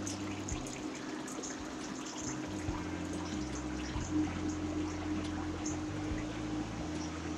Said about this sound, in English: There's a sprinkler underneath here.